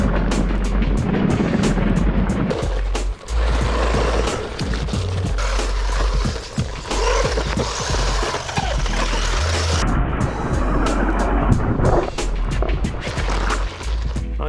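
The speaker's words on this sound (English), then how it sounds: "Let's power this truck on and see how it does." A DEERC 9206E RC truck powered on and driving, giving a steady whining motor hum with rattling, scraping wheel and ground noise that shifts in pitch and intensity throughout, close and loud, with no talking.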